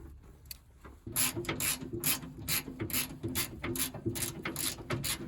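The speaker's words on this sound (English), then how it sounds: "the solution here is a number 13 wrench, and you simply just unfasten these bolts and release them from this tab" A 13 mm ratcheting wrench works engine bolts loose on a 1986 Saab 900, a quiet start followed by a rapid run of close, crisp ratchet clicks in uneven bursts.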